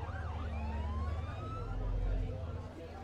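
An emergency vehicle siren in the OMSI 2 bus simulator on a London route, wailing and rising over a low engine rumble as it runs close behind, with a voice partly heard alongside.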